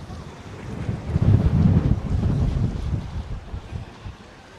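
Strong wind on an island beach buffets the microphone in rumbling gusts that swell and ease, with surf faintly washing in the background.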